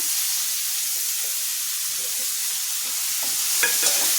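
Finely chopped onion fries in hot oil together with minced ginger, green chilli and garlic for a vegetable soybean chilli, a loud continuous hiss-like sizzle with a few clicks of stirring near the end.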